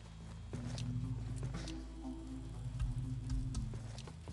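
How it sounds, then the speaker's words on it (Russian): Rain patters steadily on a roof in the video game Wall of Insanity, a soft, dense pattering over low droning background tones, with no voices. "дождик идет на улице. Чувствуется, потому что по крыше бьет этот дождь"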